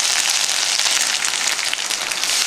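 Cloves and cardamom fry with ginger paste in a pan of hot oil, a steady dense sizzle and crackle throughout, close and fairly loud.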